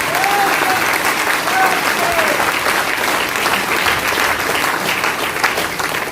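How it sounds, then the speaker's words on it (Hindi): Seminar audience applauding, a dense, loud, sustained clapping from a large crowd lasting several seconds, with a few faint whistles or voices mixed in. "अरे जोर से ताली बजाइए।"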